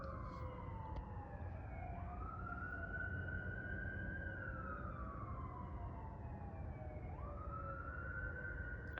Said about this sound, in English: So 2 fire trucks, and there is no fire station this side.